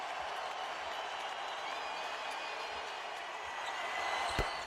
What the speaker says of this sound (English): Crowd's on its feet for a career high for Kobe.